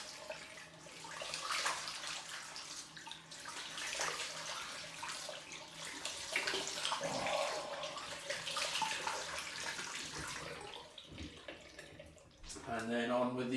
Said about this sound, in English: Now for the cold rinse.